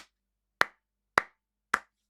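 Three sharp, evenly spaced claps ring out one after another, crisp and close, with silence in between, forming a small round of applause.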